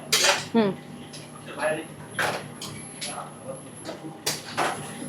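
A pan heating for rajgira kheer clinks against metal utensils as ghee goes in, with several sharp clatters and scrapes close by and a person talking between them.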